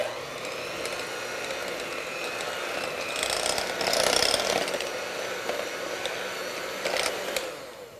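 Onion dip mixed by hand with cheese and cayenne, a steady scraping, churning stir running throughout, briefly louder midway, close and alone without talk.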